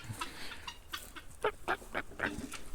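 Guinea fowl and poultry call outdoors in a farmyard with chickens, a string of loud, harsh honking cries repeating irregularly over about three seconds, close by.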